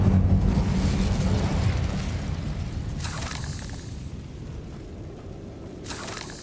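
An Incendio fire spell from Hogwarts Legacy bursts out in a loud, roaring whoosh that slowly fades, followed by two shorter bright flares of crackling noise, with no talking.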